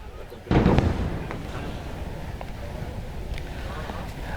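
A sudden deep blast, then a long rumbling roar of distant airstrike explosions over Nabatieh, Lebanon, that lingers under faint background noise.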